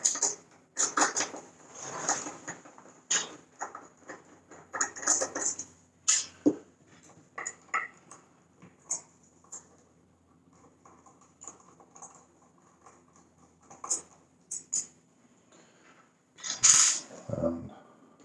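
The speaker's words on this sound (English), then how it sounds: "We have a number of screws on the back of this power supply here. We need to take those off first." Screws being backed out of the rear of a Commodore SX64 power supply case, with a string of small clicks, scrapes and taps from the screwdriver and metal housing, close and fairly quiet, ending in a sharper clatter.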